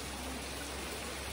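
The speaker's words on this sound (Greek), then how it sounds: "Από Σαρακίνα που βρέχει. Βρέχει και αστράφτει κιόλας." Steady rain falls in Sarakina, Greece, during a thunderstorm, a dense, continuous hiss of drops with no voices and no breaks across the short stretch.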